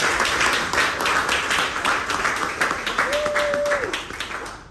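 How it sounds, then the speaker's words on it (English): Audience applause and clapping during a live call-in show, dense rapid claps from a crowd sustained throughout, with a brief tonal whistle partway through. "Clap that for her"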